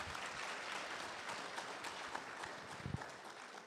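Guests applauding at an engagement ceremony, a sustained round of dense clapping from a sizeable crowd, steady and fairly close, with a few louder individual claps standing out near the end.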